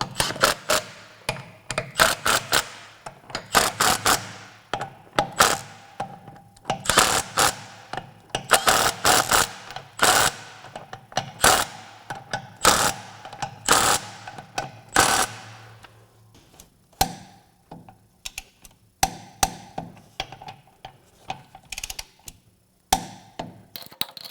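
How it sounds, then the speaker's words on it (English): A hand ratchet wrench snugs track bolts on a Toro Dingo TX 1300 compact utility loader, giving rapid bursts of loud, close clicking in repeated rhythmic runs, with brief pauses between bolts and quieter clacks toward the end. "These are only going to 70 foot-pounds, so we're just going to snug them up."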